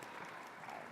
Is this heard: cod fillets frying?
no